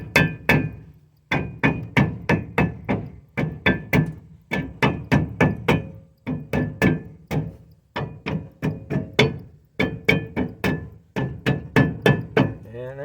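A hammer taps repeatedly on a rear drum brake shoe of a 2003 GMC Sierra 1500, sharp close metallic knocks coming in rapid bursts of several blows with short pauses between them.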